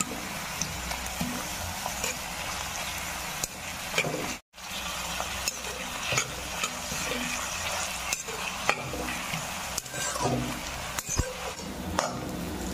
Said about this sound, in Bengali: পেঁয়াজগুলো আমি এখন তেলে দিয়ে দিয়েছি, আর তার সাথে একটু নুনও দিয়ে দিয়েছি যাতে পেঁয়াজগুলো তাড়াতাড়ি গলে যায়